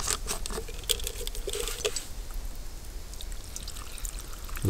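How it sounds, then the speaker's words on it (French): Water poured over vegetables in a cooking pot at a bushcraft camp, a close pattering splash in the first two seconds that settles into a softer trickle and hiss. "Allez, je vais couvrir d'eau."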